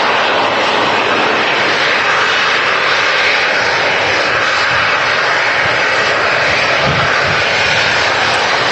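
Aircraft taxiing at Manchester Airport, a steady loud broadband engine roar holding throughout with no break, close by and sounding on its own without voices.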